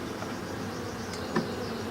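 Bees hum steadily around an open beehive during an inspection, a dense, close, even drone with a brief louder swell partway through and no voices.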